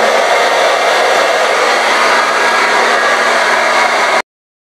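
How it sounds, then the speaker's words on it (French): A hair dryer blows with a loud, steady whoosh for about four seconds, then cuts off abruptly into silence. "je vais utiliser le sèche-cheveux"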